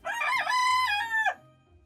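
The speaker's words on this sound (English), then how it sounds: "That's right, a rooster." A rooster crows once, a short rising and falling cock-a-doodle-doo lasting about a second, clear and fairly close with no talking over it.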